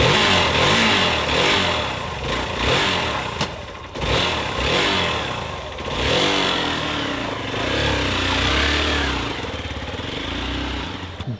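A motorcycle engine drones steadily at close range during a solo ride near Guwahati, Assam, with a rough, continuous hum and slight swells in pitch as the bike moves along.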